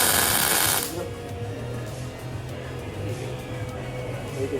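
Welding on an S13 car project: a loud bright burst of arc crackle for under a second, then a steady buzzing hum of the machine and shop noise continuing alone.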